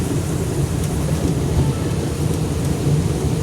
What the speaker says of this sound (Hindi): बारिश बड़ी तेज़ आई